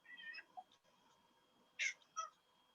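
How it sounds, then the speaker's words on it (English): A domestic cat meows during a city council meeting, first with a drawn-out call, then after a quiet gap with two quick meows close together, fairly near and clear over faint room hiss. "that's my cat."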